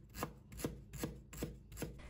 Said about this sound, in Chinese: 再切成薄片